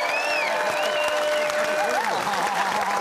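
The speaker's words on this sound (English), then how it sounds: "Give them a round of applause." Studio audience applause on the New Zealand TV panel show 7 Days in 2018, after a performance by a youth music group, a dense steady clapping that fills the whole stretch with a few voices in the crowd.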